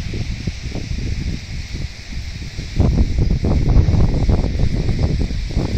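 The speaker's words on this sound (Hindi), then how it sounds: "बहुत ठंडी हवा चल रही है" Cool wind blows steadily outside a resort room in Kuwait, a broad rustling gust that swells louder halfway through and keeps up with no talk.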